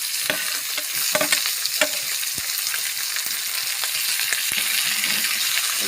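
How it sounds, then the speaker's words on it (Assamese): Meat frying with browned onions while being stirred in a pan for an Assamese duck curry, a continuous loud close sizzle broken by frequent scraping and tapping strokes of the spoon, no voices. "মাংসখিনি ধুনীয়াকৈ লৰাই আছোঁ এনেকৈ"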